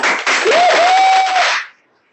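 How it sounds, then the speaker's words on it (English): Brief applause from an audience at a university senior design project expo award ceremony, a dense burst of clapping with a steady tone under it, cut off abruptly after under two seconds. "So a big round of applause for"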